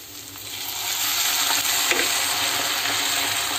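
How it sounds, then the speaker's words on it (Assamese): Hot water poured into a pan of frying fish gravy, a bright close sizzle that swells in the first second and then hisses steadily with faint bubbling and stirring, no voices. "এয়া অলপ গৰম পানী দিছোঁ গ্ৰেভি কৰি মাছখিনি দি অকণমান উতলাম"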